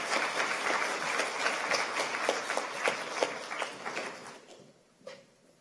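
An audience claps and cheers to welcome Dr. Shabir Ally on stage at a debate on whether Jesus rose from the dead, the applause loud and steady before thinning out and fading near the end.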